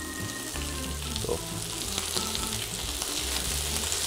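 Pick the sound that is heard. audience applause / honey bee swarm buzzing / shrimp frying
shrimp frying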